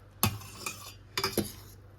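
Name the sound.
stirring pasta in a pot with a fork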